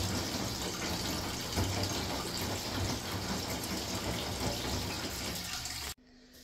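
Automatic washing machine on a short wash cycle, filled with water poured from a barrel rather than a mains connection, gives a steady loud wash of sloshing, running water for about six seconds before it cuts off abruptly to near quiet.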